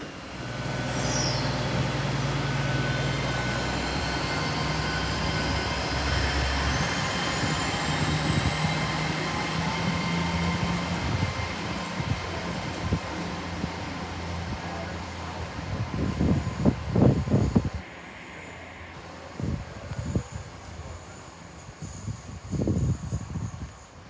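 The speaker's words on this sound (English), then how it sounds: "In the end, it was a 2-coach Class 150 Sprinter unit" Two-coach Class 150 Sprinter diesel multiple unit in Cornwall, a steady rumbling engine drone with rising whine, then clattering wheel knocks and brake noise as it arrives and slows.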